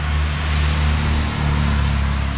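A bus rumbles past on a rainy coastal road in Maine, a steady, loud low engine drone close by with wet road hiss.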